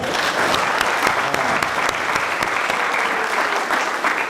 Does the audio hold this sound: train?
no